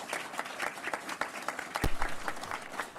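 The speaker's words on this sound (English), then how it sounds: "Let's give her a round of applause." At a public safety briefing in Prince George's County, an audience applauds the outgoing female fire chief with moderately dense clapping, individual claps distinct, a few cheers and murmurs mixed in.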